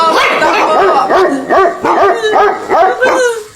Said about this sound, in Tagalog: Nakakatakot naman yung mga tahol na aso.